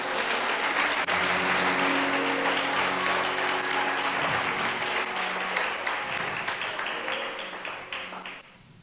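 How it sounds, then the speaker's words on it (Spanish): A church congregation applauds loudly and steadily for several seconds, a dense wash of clapping that gradually thins and fades out at the end. "Yo creo que usted puede darle un aplauso más fuerte que ese."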